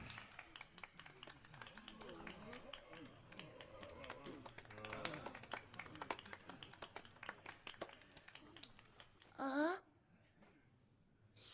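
Sparse audience clapping in a theatre from the Professeur Layton video game: scattered, thin handclaps under people talking, ending in a brief vocal exclamation.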